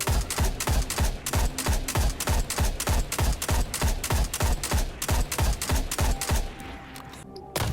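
The Meta weapon fires on full auto in a video game, a loud, rapid, evenly spaced stream of about twenty shots over six seconds before stopping.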